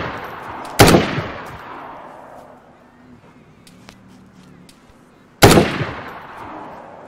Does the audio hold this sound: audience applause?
no